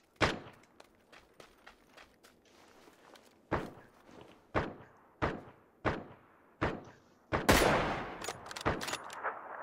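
Gunfire in PUBG on PS4 Pro, heard as a series of sharp, evenly spaced shots followed by a denser burst, loud and close with no talk.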